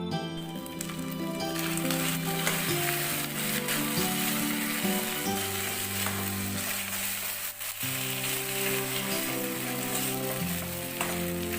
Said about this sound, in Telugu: ఇప్పుడు మనం ముందుగా ఉడికించుకున్నాం కదా పెసరపప్పు, అన్నం ఇట్లా వేసి బాగా మిక్స్ చేసుకుందాం.